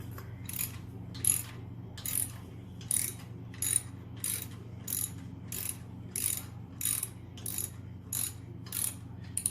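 Ratchet wrench with a tall deep socket tightening air cleaner bolts on a Harley Softail 114: a steady series of sharp ratcheting clicks in even rhythm, close and clear over a low background hum.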